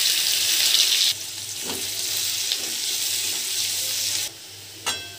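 Two medium onions, chopped, dropped into oil already holding bay leaf, cumin, whole garam masala and asafoetida. A loud hiss at first settles into a steady sizzle with a few stirring knocks.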